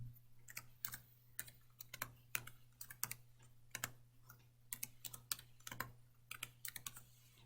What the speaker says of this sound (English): I have values I need to type in.